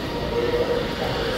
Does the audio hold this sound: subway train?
yes